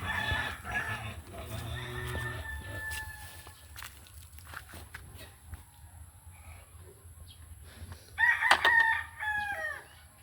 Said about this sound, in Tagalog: Marami po kasing manok.